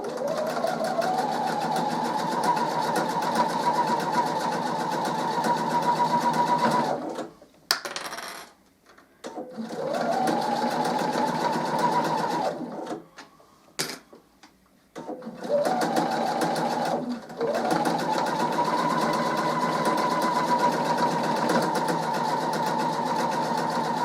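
A sewing machine stitches down the sides of a pen holder bookmark with a 1/4 inch seam, running in three long steady bursts with short quiet pauses between them, close and loud with no talk.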